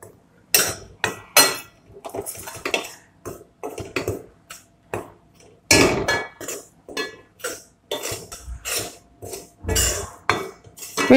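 Flour for gurudwara kada prasad being stirred and dry-roasted in a pan, a close run of repeated scraping clatters of the utensil against metal, some sharp and loud, with brief pauses between strokes and no talking.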